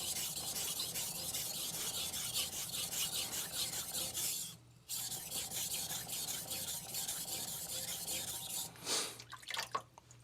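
A knife is stroked steadily across an Altstone Fukami 1000 grit whetstone, making a continuous close wet rasping, with one brief pause and a softer, uneven stretch near the end.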